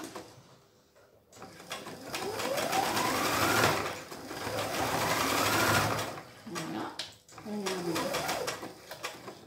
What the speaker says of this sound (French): on va venir coudre ça là